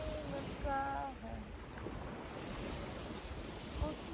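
Sea waves break on the shore behind a seaside yoga session, a continuous close wash of surf mixed with wind rumble on the microphone and a few brief voice fragments early on.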